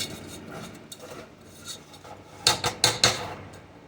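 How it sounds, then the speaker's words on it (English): A spoon stirs homemade caramel in a pot, making soft scraping and rasping strokes, followed by a few louder, sharper scrapes near the end. "You want to make sure you keep stirring."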